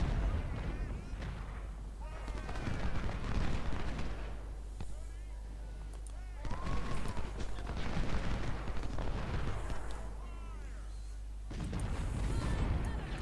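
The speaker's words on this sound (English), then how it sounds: "just let our artillery beat up on them" Artillery fire in the Civil War strategy game Ultimate General Civil War, a series of low rumbling cannon booms rolling in waves under a faint bed of battle noise, with someone talking over it.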